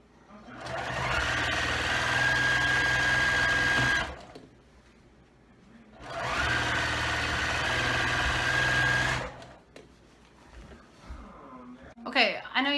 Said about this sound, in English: I just sew all the way around my quilt